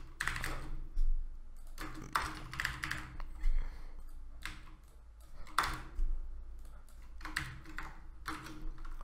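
Fingers type on a computer keyboard close by, with quick uneven bursts of clicks separated by short pauses across several seconds, mostly alone with no voice.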